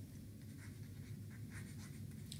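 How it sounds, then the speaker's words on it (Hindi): Marker or chalk scratching out a formula on a board in a classroom lesson, a faint, continuous light scraping over a steady low background hum, with no talking. "तो इसका हम यहाँ पर फॉर्मूला लिख देते हैं आपको"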